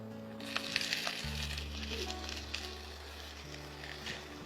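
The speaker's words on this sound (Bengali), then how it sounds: "অর্ধেক দই তোমাকে ঢেলে দিচ্ছি।" Yogurt poured into a hot pan of frying onions and prawns gives a sudden burst of sizzling that settles into a steady, close crackling hiss over a low hum, with no voices.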